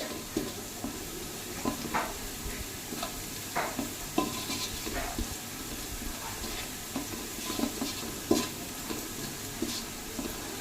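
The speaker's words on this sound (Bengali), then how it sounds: "এটা ভাজা ভাজা হচ্ছে।" Garlic frying in butter while being stirred, giving a continuous soft sizzle broken by repeated scraping and clinking of a utensil against the pan, close and moderately quiet.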